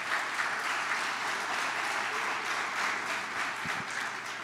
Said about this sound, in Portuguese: Dá um aplauso ao seu amém